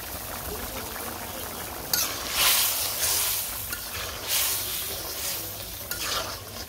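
Fish and vegetables frying in a pan in a village kitchen, a steady close sizzle with stirring scrapes and bursts of louder crackle as the fish goes in.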